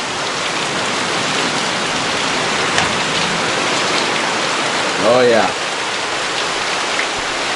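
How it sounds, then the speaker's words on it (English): Heavy tropical rain pours steadily in Colombia in the early morning, a dense, loud, continuous roar of water on surfaces, with a man's short spoken remark briefly rising over it. "Just absolutely thunderous pouring rain."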